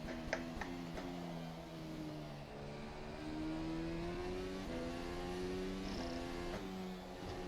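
Formula 1 2020 FSR race car in rFactor 2 at Suzuka, its engine droning steadily at mid-revs with gear-change shifts and a buzzing, rattling edge throughout, close and continuous with no voices.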